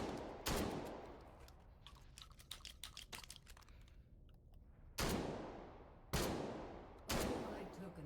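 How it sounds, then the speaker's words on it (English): Shotgun blasts with buckshot rounds in a Sosig shooter game, several loud, sharp reports with ringing decay, one early then three spaced near the end, with a patter of smaller clicks and impacts between them. "buckshot after buckshot down the hallway there"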